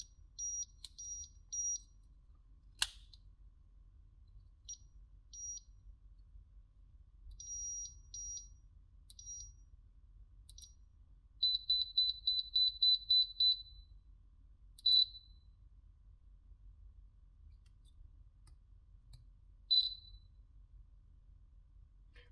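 Short high-pitched electronic chirps and beeps from a prank beeper circuit board come in scattered bursts over quiet hiss, including a rapid string of identical pips, like a cricket.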